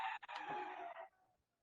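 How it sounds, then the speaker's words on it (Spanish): A rooster crows once, a loud, fairly close cock-a-doodle-doo with a short break near the start, then trailing off into quiet. "Ya se despertaron los gallos"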